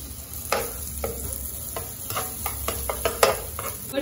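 Garlic frying in olive oil in a home kitchen pan for garlic-and-oil pasta, a steady close sizzle broken by irregular scraping strokes of a stirring utensil, with no talk.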